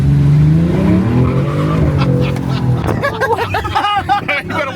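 Dodge Charger SIXPACK pulling away to start laps on a track, engine rising and sweeping in pitch, with tire squeal and excited voices in the cabin over the top.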